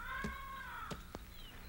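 Crows caw in a 1990 Korean television cartoon, a few short sharp calls spaced apart over a faint held background tone, fairly quiet.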